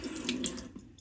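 Water runs from a tap onto a crevice cleaning brush, a brief splashing hiss that lasts about a second and then drops away.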